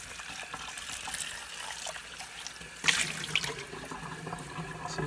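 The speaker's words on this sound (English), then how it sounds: "Rinse it out." Water from a tap runs steadily as something is rinsed out in a sink, a soft continuous splash that grows a little louder and more spattery partway through.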